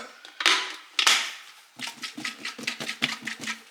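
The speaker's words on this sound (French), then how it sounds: "on va prendre de l'ail frais qu'on va râper" Fresh garlic grated on a microplane: a couple of louder rasping strokes, then a quick, steady run of short scraping strokes, close and fairly crisp.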